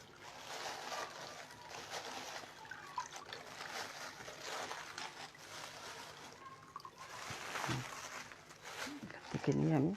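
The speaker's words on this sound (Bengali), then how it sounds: "এখানে আমি ধুয়ে নিব বালতির মধ্যে দিয়ে" Dyed fabric is rinsed in a bucket of water with quiet sloshing and trickling. The water sounds come in faint, uneven splashes, and a voice talks over them.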